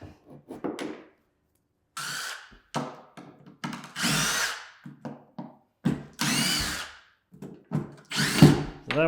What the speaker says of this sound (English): go in here with the power planer and start feathering things out